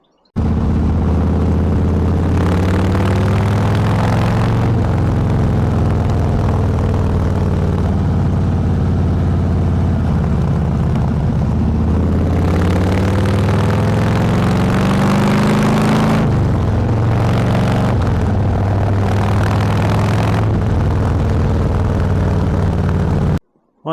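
Harley Davidson motorcycle engine running steadily with a deep, loud, lumpy rumble, rising and falling with throttle blips and revs throughout, no talking.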